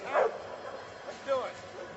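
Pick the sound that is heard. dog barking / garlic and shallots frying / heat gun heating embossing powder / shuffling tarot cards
dog barking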